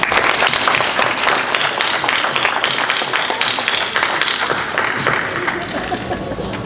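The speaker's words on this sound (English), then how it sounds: "Let's give him a big round of applause." A dinner audience at an earthquake relief fundraiser gives sustained, loud applause for the host, dense clapping from many hands that carries on evenly for several seconds.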